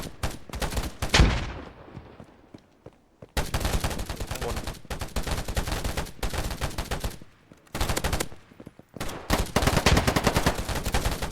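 Gunfire in the free first-person shooter Polygon, with loud rapid automatic bursts and single shots in dense clusters separated by brief lulls, close and harsh, with occasional talk mixed in.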